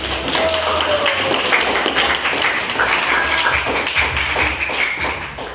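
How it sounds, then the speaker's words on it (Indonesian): Classroom students clapping their hands together, a dense and continuous patter of many hands heard close and fairly loud, holding steady without a break. "Tepuk tangan untuk kelompok 2."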